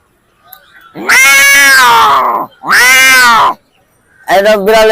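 A human voice imitates fighting cats with three loud, drawn-out yowling wails, separated by short pauses.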